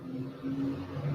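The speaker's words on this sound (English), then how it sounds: "It's a big lorry driving up the road." A big lorry drives up the road outside, a low, steady engine drone with tonal hum, moderately faint and continuous.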